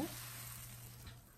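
Dosa batter sizzling in a hot pan over a medium flame, a steady soft frying hiss that holds evenly throughout with a low hum beneath and no voices.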